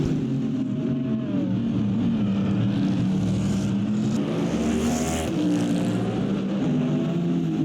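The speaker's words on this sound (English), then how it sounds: "Listen to that V8, it sounds glorious." A Ford Mustang V8 race car in a racing video game at Bahrain roars at moderate volume, its engine pitch rising and falling through corners and gear changes, with other engines blending in at times.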